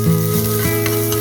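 Green chillies, curry leaves, ginger and garlic sautéing in a pan for carrot poriyal, a loud, close, steady sizzle with faint stirring scrapes.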